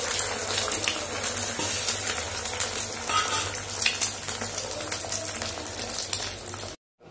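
An egg omelette fries in a pan with a loud, continuous close sizzle and some stirring, cutting off abruptly near the end.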